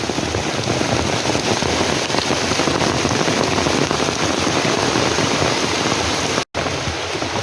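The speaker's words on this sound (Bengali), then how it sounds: "প্রচুর পরিমাণে বৃষ্টি নামছে প্রচুর প্রচুর বৃষ্টি" Heavy rain pours steadily in a dense, continuous roar, broken by one very brief dropout near the end.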